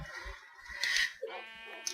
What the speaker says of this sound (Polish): Tam jest owca, dobrze widzę.